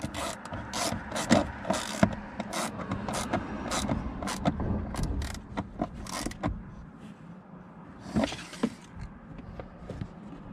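A fastener is snugged down on a 67 Designs mount during installation: a close run of scraping, clicking and ratchet-like strokes, dense through the first six seconds, then quieter with a brief burst of rubbing near the end.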